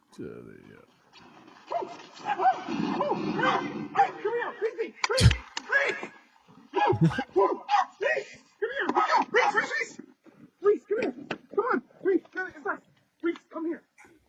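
A dog barks and yips in short, excited bursts at a large moose in Edmonton, heard in scattered outbursts beneath and between people talking.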